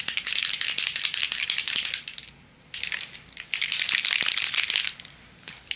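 A Simon Hurley solar spray can is shaken hard, its loose mixing ball rattling in steady, loud bursts. There is a short pause near the middle, then the shaking resumes, with no talking.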